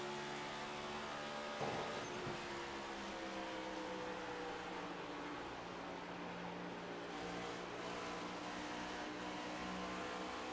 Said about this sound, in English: You can just hear the throttle inputs.